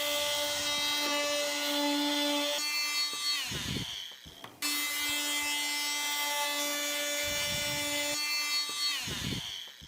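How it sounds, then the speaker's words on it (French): A floor stripper machine with a toothed blade cutting through carpet along a ruler, a loud steady mechanical whine with harmonic tones that cuts out briefly before starting again, close by with no talking. "Je me positionne sur la règle et je coupe avec la décortiqueuse avec le dent."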